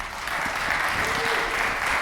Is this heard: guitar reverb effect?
no